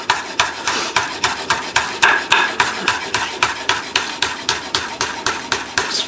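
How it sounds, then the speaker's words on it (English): A knife chops a jalapeño on a cutting board in a steady, fast rhythm of crisp, close taps, about three per second, with no talking. "run my knife through"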